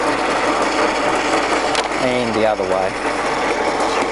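Gears of a Kearns horizontal borer's feed engage in reverse as the lever is thrown: a steady broadband mechanical whir with ratcheting, gear-like texture runs throughout, close and fairly loud, while someone talks briefly over it.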